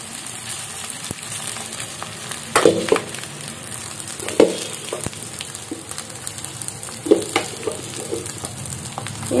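Cooked leftover rice being stirred into a hot tempering in a pan, giving a steady low sizzle with a few louder scraping stir strokes, close and alone.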